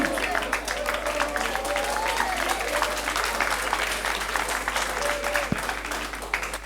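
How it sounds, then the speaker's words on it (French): Students and spectators at a lycée quiz contest keep up dense, continuous clapping for several seconds, loud and close, over a constant low mains hum. "Applaudissez"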